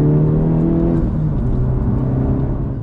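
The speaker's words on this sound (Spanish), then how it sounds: "Parece que no acaba nunca de dar revoluciones." A Honda Civic FK8 engine holds a high rev near 7000 rpm, a loud steady drone with strong tonal harmonics that drift slightly before easing off toward the end.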